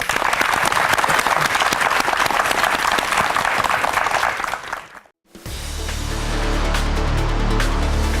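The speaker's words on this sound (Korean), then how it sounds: "수고해 주신 신현식 대표께 큰 박수 부탁드립니다" A studio audience at a Korean mock crowdfunding show breaks into sustained applause, dense and even, which cuts off abruptly before a low hum and quieter room sound take over.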